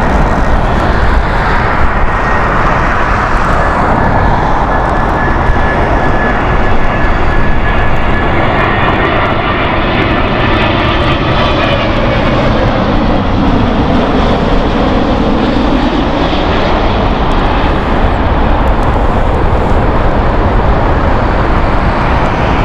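An Egypt Air Boeing 777 lands at Heathrow Airport in fog. A loud, steady roar of engines and rushing air holds throughout, with a faint whine riding on top.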